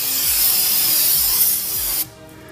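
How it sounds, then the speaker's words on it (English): Brake cleaner sprayed from an aerosol can over new brake rotors, front and back: a loud, steady hiss lasting about two seconds that cuts off abruptly, leaving a quiet background. "So you want to get yourself some brake cleaner. Just hose it down front and back."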